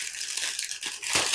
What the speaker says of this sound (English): this is a resealable bag